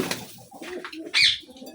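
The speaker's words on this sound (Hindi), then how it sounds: "अभी कबूतरों को दाना डालते हैं। कबूतरों को भी डाल दिया है।" Pigeons coo close by while being fed grain among other birds, with soft rustling and a brief sharper call near the end.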